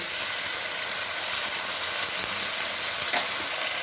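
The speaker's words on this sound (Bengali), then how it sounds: "এই মশলাটা দিয়ে আমি ভালো করে এটা কষিয়ে নেব" Prawn masala paste of ginger, tomato, green chilli and onion frying in a pan: a dense, even, loud sizzle and hiss running steadily throughout, with no voices.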